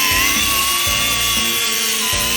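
Power tool cutting through an old shock absorber body at the spring perch on a Toyota AE86 coilover build: a loud, continuous high-pitched whine with a grinding edge, heard up close.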